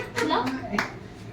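Hands clapping at a birthday celebration, a few quick claps close by, mixed in with people talking, including a voice.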